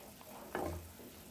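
Prawns cooking in kurma gravy give a soft, low sizzle with a brief stirring scrape in the middle, faint and close with no voices.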